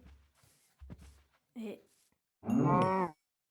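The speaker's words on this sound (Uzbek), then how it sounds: "Bu yerda esa bitta sigir." In Minecraft, a cow lets out a loud, sustained moo near the end, preceded by a shorter lowing call, with quiet game ambience and soft footsteps in between.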